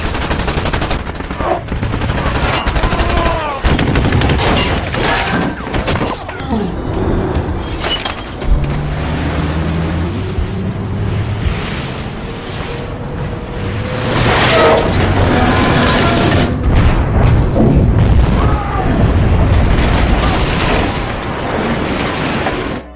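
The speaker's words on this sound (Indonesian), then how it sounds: "Kapal tunda itu menabrak kapal selam Jerman, menyebabkan kapal selam tersebut meledak dan menenggelamkan kedua kapal." A German submarine explodes in a battle at sea in the film The Curious Case of Benjamin Button, with loud, dense bursts of gunfire, crashing blasts and breaking debris that keep up throughout.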